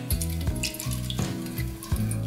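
Water is poured into a pan around a baking cheesecake. The splashing and trickling is loud and continuous, surging in repeated pulses, with no voices.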